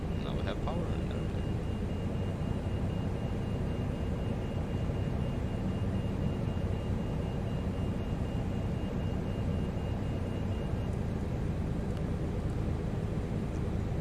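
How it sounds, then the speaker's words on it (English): An Airbus auxiliary power unit runs in a flight simulator, giving a steady low mechanical hum with a faint high whine that fades out near the end, unbroken and even throughout. "Now we have an available auxiliary power unit, so we will go ahead and turn on this."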